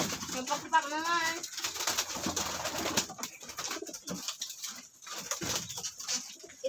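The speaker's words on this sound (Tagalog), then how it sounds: "Napakagandang kalapati po yan." A pigeon cooing in soft repeated phrases near the start, heard amid noisy outdoor ambience and other bird or poultry calls from a racing pigeon loft setting.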